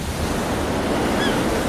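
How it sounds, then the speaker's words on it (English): Niagara Falls, one of the world's most powerful waterfalls, roars as a dense, unbroken wash of rushing water, loud and steady throughout with no voices. "Niagara Falls, one of the most powerful waterfalls in the world."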